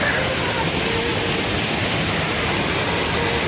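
Janali Mandali waterfall in Achham, heard as a steady, dense broadband rush of falling water that holds constant and fairly loud throughout, with no talking.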